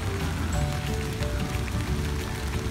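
Rain falls steadily outside a house on a street of townhouses, a dense, continuous patter and hiss close by that carries at even loudness from start to end with no voices.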